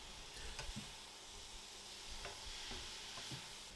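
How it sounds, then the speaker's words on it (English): Beef with green peppers and fermented black beans is stirred in a pan, giving a faint, steady sizzle marked by soft, irregular scrapes and taps of the spoon. No talking. "Give those a good stirring in and cook for another minute or 2"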